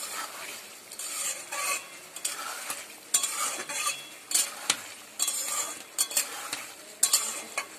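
Spiced potatoes frying in oil in a pan while being stirred, a steady close sizzle broken by repeated scraping and clinking strokes of a utensil, with no voices.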